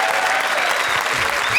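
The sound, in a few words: studio audience applause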